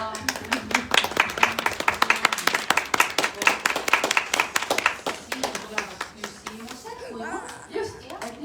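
Audience applause at a book presentation, steady clapping from a room of people that builds and holds for several seconds before thinning out, with scattered voices rising near the end.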